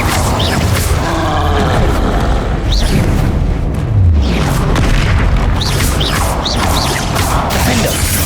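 Incendio fire spell cast in the game Hogwarts Legacy: loud booming fiery blasts amid constant combat effects and whooshes, dense and continuous with no pauses.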